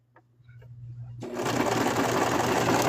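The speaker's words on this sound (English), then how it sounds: "I'm just going to sew back to that center line" A sewing machine stitching a tiny plush toy inspired by Vaporeon starts after a second of quiet handling and then runs at a steady, close, buzzing whir.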